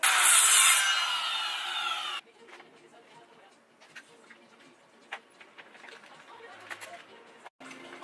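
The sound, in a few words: cutting wood strips with a saw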